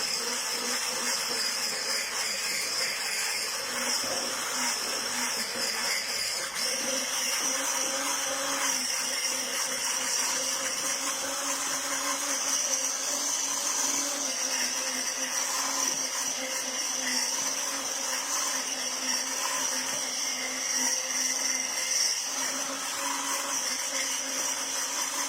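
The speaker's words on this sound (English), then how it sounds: "I'm just going to whisk it until it forms into a nice sponge batter mix" Electric hand whisk beating sponge batter for Victoria sponges, a continuous loud motor whine that holds steady throughout.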